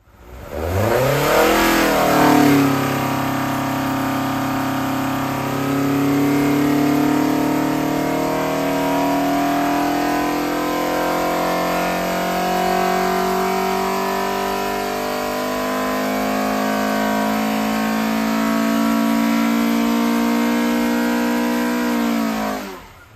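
A Ford Pinto engine with Weber 50 carburettors and a Simpson exhaust revs up hard and then holds a steady, loud, throaty roar with slowly wavering pitch for over twenty seconds, no voices.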